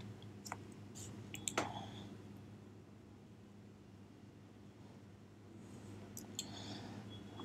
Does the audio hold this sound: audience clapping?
no